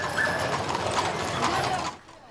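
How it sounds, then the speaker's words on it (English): Horse-drawn wagons rolling through historic Sierra Nevada foothill towns in Amador County, California, with steady clip-clopping hooves and wagon rumble, fairly close, fading out near the end. "The horse-drawn wagons rumbling through the historic towns of the Sierra Nevada foothills"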